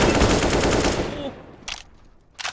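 Rapid pistol fire from a competitive tactical shooter match between two teams, dense bursts of shots for the first second and a half, then two short sharp volleys after a quieter gap, with faint voices underneath.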